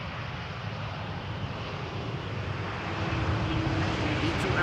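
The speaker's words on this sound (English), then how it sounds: "Big, quiet, typical KLM landing, keeping up the speed." A KLM Embraer E195-E2 airliner lands on runway 18R at Amsterdam Schiphol, a steady, broad roar that holds constant and swells slightly toward the end, heard from a distance with no voices.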